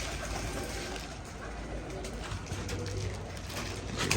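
Pigeons in a loft at feeding time, with soft cooing and bird calls carrying steadily over a dense, noisy background throughout.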